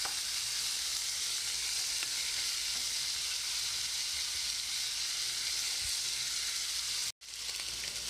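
Sliced onions and meat sizzle and fry steadily in a pan for jjajang ramen, a continuous close hiss with a brief cut near the end and no talk.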